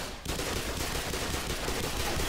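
Gunfire in a firefight in the video game Black Mesa, a dense, rapid burst of shots that starts abruptly and keeps going loudly without pause.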